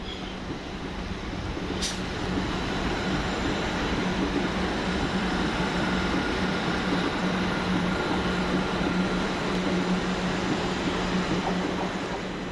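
Train at East Croydon station, a sustained rumbling hum of rolling stock with a steady tonal whine and a brief sharp high squeal early on, loud and continuous with no voices.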